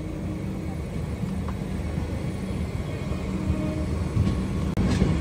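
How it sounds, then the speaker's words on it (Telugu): A Vande Bharat Express passing near a coach maintenance center, heard from aboard another moving train as a steady low rumble and rattle, with a few sharp clicks near the end. "అటు సైడ్ నుంచి ఏదో ట్రైన్, ఏం ట్రైన్ ఇది, వందే భారత్ ఎక్స్ప్రెస్ మెయింటెనెన్స్కి వెళ్తుంది"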